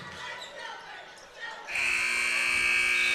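A loud electronic buzzer ends the first half of a basketball game, sounding as a sustained steady tone after a stretch of crowd noise and play-by-play commentary in a gym.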